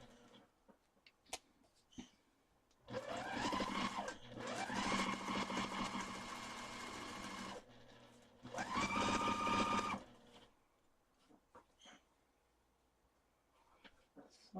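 A sewing machine stitches a Christmas quilt in two bursts: a long whirring run of rapid needle strikes with the motor rising and falling, a short pause, then a shorter run, with faint handling sounds in the quiet between.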